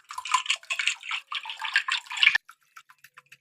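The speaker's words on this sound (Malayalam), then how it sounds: "ഒരു വിസ്കോ ഫോർക്കോ സ്പൂണോ എന്തെങ്കിലും വെച്ച് ഒന്ന് ഇതുപോലെ ഒന്ന് മിക്സ് ചെയ്ത് കൊടുക്കാം." Eggs and salt are beaten in a bowl with a whisk, fork or spoon, making quick rhythmic wet swishing strokes close up. The stirring stops after about two seconds and is followed by a few faint taps.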